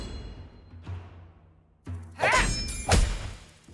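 Whacks land on enemies in the South Park: The Stick of Truth video game, a few soft thuds followed by louder swooshing, crunching impacts in close succession.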